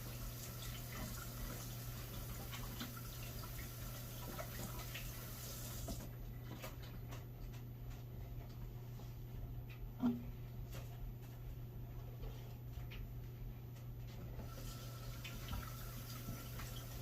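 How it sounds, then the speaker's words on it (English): Hot tap water runs steadily into a kitchen sink while hands are rinsed of sugar, a constant close hiss with faint splashing and a brief clunk partway through. "some good hot water will get all them sugars off your hand"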